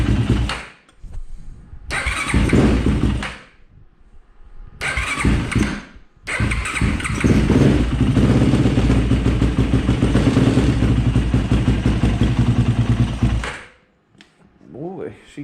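A cold engine cranks and fires in bursts, catching briefly twice before settling into a loud, steady run that cuts off near the end, right after a clutch line repair.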